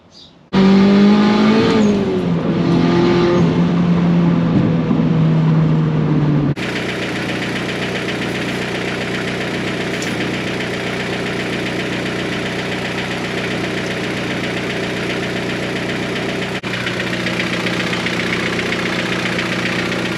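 Car engine heard close, revving hard with rising and falling pitch at first, then a steady drone while driving, a voice briefly audible.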